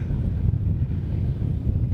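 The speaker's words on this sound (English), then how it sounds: "It's very hard in this wind." Gusty wind buffets the microphone at an outdoor radio-control helicopter flying event in Las Vegas, a low, rumbling, uneven roar that persists throughout.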